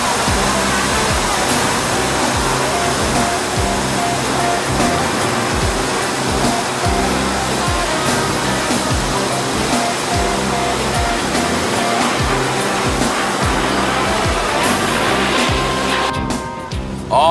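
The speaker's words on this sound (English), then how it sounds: "I take the water right from the lake and blast it through me cannons" A harbour water cannon blasting water drawn from a lake, a loud continuous roaring rush like a waterfall that holds steady for a long stretch before cutting off abruptly at the end.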